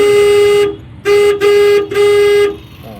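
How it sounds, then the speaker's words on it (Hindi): A car horn honks loudly three times, one long blast followed by two shorter ones in quick succession. "लाइल वाली गाड़ी आ रही है ना, हॉर्न मारिए"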